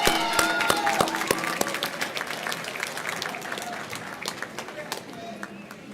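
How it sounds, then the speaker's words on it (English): A commencement audience in a conference center applauds, with dense, sustained clapping from many hands, strongest at the start and slowly thinning over several seconds, with scattered individual claps standing out. "let's give them a round of applause"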